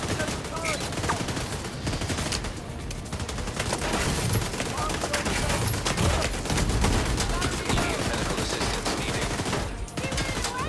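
Sustained turret gunfire in the video game The Division 2, a loud, dense stream of rapid shots with brief lulls, continuing steadily throughout.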